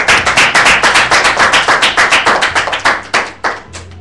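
A group claps together in praise in an indoor outreach setting, loud, close, rhythmic claps at a steady quick pace that loosen and trail off into a few scattered final claps.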